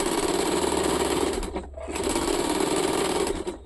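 Sewing machine running a second line of stitching over an existing seam on a salwar waistband, a steady close whir with one brief pause midway before it resumes.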